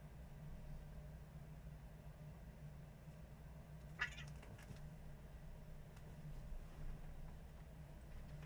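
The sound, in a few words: cats fighting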